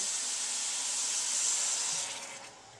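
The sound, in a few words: chicken stock deglazing a hot pan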